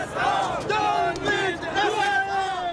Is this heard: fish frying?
no